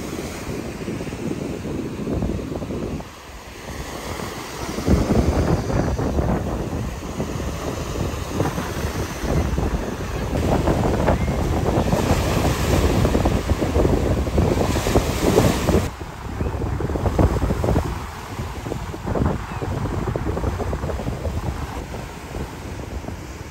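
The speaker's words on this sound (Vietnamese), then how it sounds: "Gió quá trời gió." Strong wind buffets the microphone at a beach in Ha Tien on a rainy day, a constant roaring rush with gusts swelling and easing, and surf blended underneath, with no voices.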